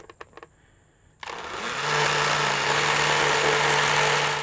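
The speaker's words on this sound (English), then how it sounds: "And then we're gonna give this a blend." Blender whirring through mint, sugar and water, starting after a few faint clicks and then running as a loud, continuous roaring whir with a steady motor drone.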